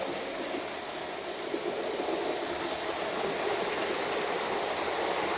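A model train running at about 60 scale miles an hour on a layout track produces a steady, fairly loud rolling rumble with light clicking, growing slightly louder toward the end.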